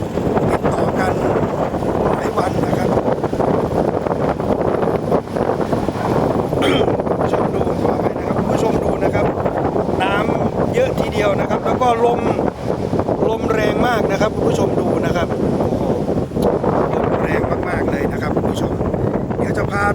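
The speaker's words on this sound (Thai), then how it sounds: "เสียงลมอาจจะแรงไปหน่อยนะครับ" Strong wind buffets the microphone in a steady, loud roar that continues throughout, with faint talk underneath, while riding a vehicle at Huai Sala Reservoir, Phu Sing District, Sisaket, Thailand.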